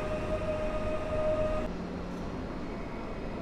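An EU47 electric locomotive with a passenger train at Warszawa Zachodnia station after dark: a steady, loud rail rumble with a faint tonal whine that stops partway through.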